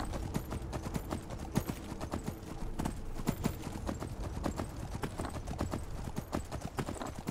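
Horse hooves clip-clopping steadily as a rider travels on horseback in the video game Skyrim, a quick even rhythm of soft hoof strikes heard close and fairly quiet.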